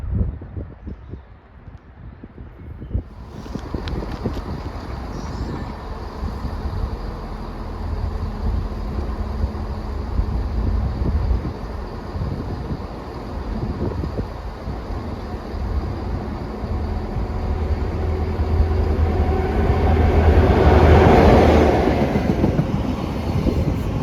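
A Chiltern train at Leamington Spa station rumbles and rattles steadily, with a clatter of wheels over rails and some wind buffeting. The noise gradually swells louder toward the end, and no one speaks.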